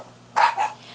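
A dog gives one short bark that breaks into a second, softer yip, brief and fairly close, over a faint steady hum with no talking.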